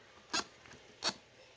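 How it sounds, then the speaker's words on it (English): A squeaky joint on a Predator action figure, from an unknown maker, gives two short, sharp squeaks about 0.7 seconds apart, close by and fairly loud against a quiet room. "Very squeaky joint right there."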